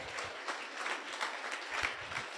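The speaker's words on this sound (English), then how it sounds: "Big round of applause for Claire Desain" Audience applause for an art contest entrant, a soft, steady patter of clapping from a small crowd, fairly distant and quiet throughout.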